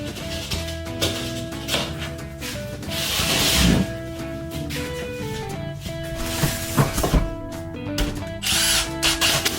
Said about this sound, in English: When screwing in your sheetrock,